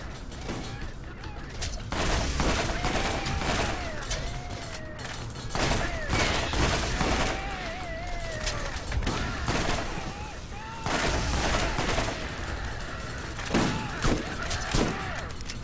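Shotgun fire in the video game Borderlands, dense volleys of booming blasts and rapid gunfire in bursts across the clip, with a voice speaking over the combat noise.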